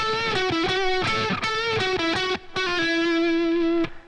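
A distorted electric guitar plays the closing phrase of a solo, with bright sustained notes, bends and held double stops, loud and close with no talking.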